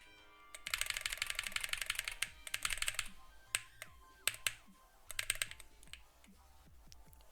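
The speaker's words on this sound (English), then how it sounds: "So now I'm gonna test out the keyboard on some spamming." A Nuphy BH65 keyboard is rapidly spammed during Geometry Dash play, with dense bursts of fast, clicky keystrokes in several rapid runs separated by short pauses and scattered single presses, close and crisp.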